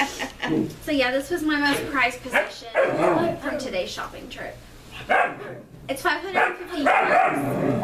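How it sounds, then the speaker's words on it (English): A little German Shepherd puppy named Pluto barks repeatedly indoors in a quick series of sharp, high yips and bow-wows, then breaks off and later yaps again, all under steady close talking from a person. "Sorry about the dog barking."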